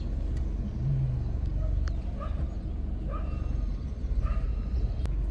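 Car driving on a rainy trip toward Polo Forest, heard from inside the cabin as a steady loud engine and road rumble, with brief muffled voices and a dog bark in the distance.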